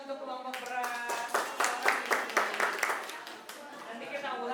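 Students clapping for a classmates' group in a classroom microteaching lesson on Indonesian cakes, a short round of distinct, fairly close handclaps that swells and then fades over a few seconds, with some voices in the room.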